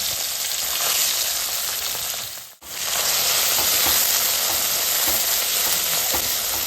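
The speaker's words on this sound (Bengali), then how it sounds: "তেলটা ভালো করে গরম হয়ে যাওয়ার পরে আস্তে আস্তে এখানে মাছগুলোকে ছেড়ে দিলাম" Fish fry steadily in hot mustard oil in a pan, a loud continuous sizzle with one brief drop to near silence midway before the crackle resumes at full strength.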